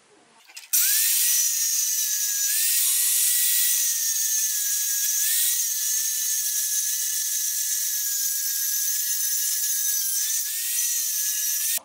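A small metal pipe is cut with a power tool in a mechanic's workshop, a loud, steady high-pitched grinding whine lasting about ten seconds with slight pitch wobbles, starting and stopping abruptly, with no talk.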